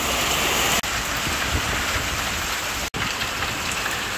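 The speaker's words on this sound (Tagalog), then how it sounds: "Malakas po ang hangin tsaka ulan." Heavy rain with strong wind during a Signal No. 1 storm pours down in a dense, steady roar, with two brief dropouts where the sound cuts out for an instant.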